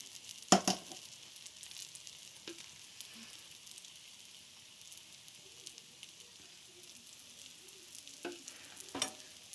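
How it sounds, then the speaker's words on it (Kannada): Jackfruit dosa cooks in oil on a hot pan, giving a faint, steady sizzle broken by a few sharp crackles and pops. No one speaks. "ಈಗ ಮೇಲೆ ಸ್ವಲ್ಪ ಎಣ್ಣೆ ಹಾಕೋದು"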